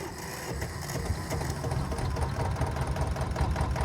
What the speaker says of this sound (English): it's definitely a one-piston engine